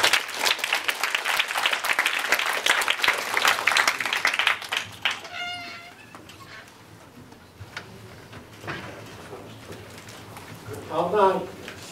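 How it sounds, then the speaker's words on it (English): Applause from an audience at a fair-trade coffee forum, brisk clapping for several seconds that thins out and fades, followed by scattered voices and murmuring. "give him a big applause"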